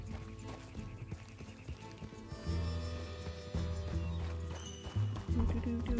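A horse galloping in Red Dead Redemption 2, with rhythmic hoofbeats mixed with musical score and game sounds, and a voice speaking over part of it.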